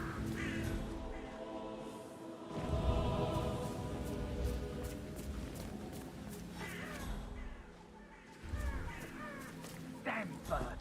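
A crow caws repeatedly in the game Hitman 3, with several harsh calls scattered over a busy ambient background and voices talking throughout.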